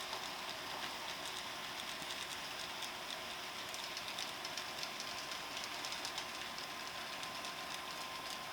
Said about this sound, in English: you saw the new train that just ran by